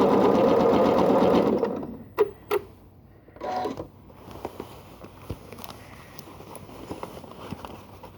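Sewing machine stitching a quilted tote bag, a loud rapid whirring run that stops after about two seconds, followed by a few sharp clicks and quieter handling noises.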